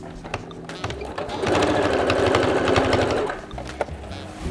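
A sewing machine top-stitches the diagonally cut end of a fabric waist strap for dungarees, running in one steady burst of a couple of seconds between quieter handling sounds.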